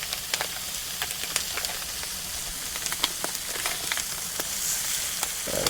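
Chorizo sizzles steadily on a hot Weber Slate flat top griddle, a dense crackling fry with scattered pops throughout and no talking.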